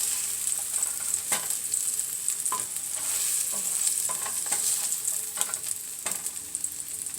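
Rice cooks in a pot on a stovetop and is stirred, a soft steady sizzle with repeated scraping spoon strokes, close and fairly quiet, no talking.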